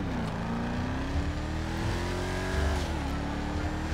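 A sporty car in the GTA 5 game revs hard, the engine note climbing steadily and then dipping briefly at a gear shift, with a loud continuous roar close up and no voices over it.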